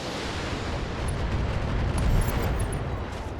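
Missile fire and a mech being destroyed in the BattleTech video game, heard as a dense, roaring explosive rumble that swells and holds loud for several seconds with no speech.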